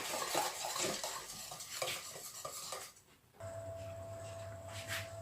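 Flan cake batter with baking powder is stirred briskly in a bowl, making rhythmic scraping and clinking. It pauses, then gives way to a steady low hum with faint clatter.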